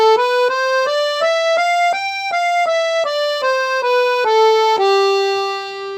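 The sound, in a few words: G mixolydian scale played on piano accordion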